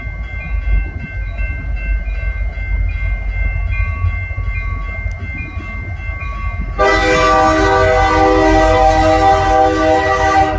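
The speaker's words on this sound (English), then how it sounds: "It's a UP OCS led by UPSD 70M 4404." A Union Pacific freight train led by SD70M locomotive 4404 passes with a steady loud rumble, its horn sounding throughout, then the rush and clatter of cars swells sharply as it draws alongside.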